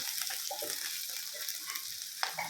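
Onions and dried chillies fry in a pan with a soft, continuous sizzle, broken by a few light crackles and stirring clicks, quiet and close with no voices.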